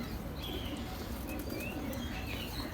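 Rampuri pigeons, a lot of two males and a female, make faint chirps and soft cooing calls, scattered over a low, steady background hum.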